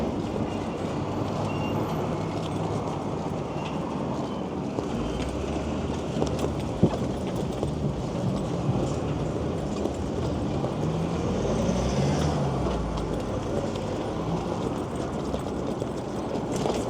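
A big black truck rolls past amid steady broadband road rumble, a continuous loud wash of traffic noise holding level for the whole stretch with no talk over it.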